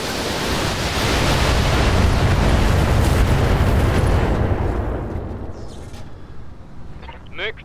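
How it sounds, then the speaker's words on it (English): A mech blows apart in the BattleTech video game, set in an urban battle: a broad, roaring explosion swells loud, holds for several seconds, then fades out while smaller crackles and whistles follow near the end. "Mech destroyed."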